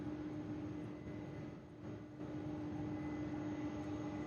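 A one-year-old Boeing 767-300 at Louisville's airport, heard as a faint, distant, steady jet engine roar with a constant hum, dipping briefly midway.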